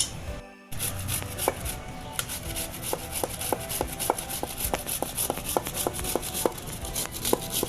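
Cucumber being grated by hand for sweet fasting cucumber vadas, a steady series of short rasping strokes at a near-regular rhythm, close and fairly clear over a low kitchen background.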